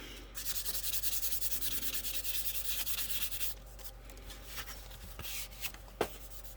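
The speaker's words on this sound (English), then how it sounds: "Let's check out sanding it." Rapid, rhythmic back-and-forth scratching of sandpaper on a spray-primed scale model surface for a few seconds, then it stops, leaving a few light taps and handling noises.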